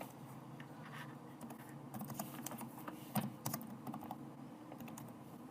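Soft, quick clattering of computer keyboard keys in irregular bursts of typing, faint and close, with no voices.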